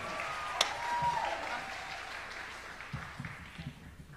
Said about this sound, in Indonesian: Tepuk tangan untuk teman-teman dari Sanggar Baladewa tadi.